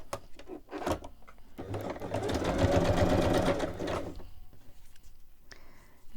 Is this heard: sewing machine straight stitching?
yes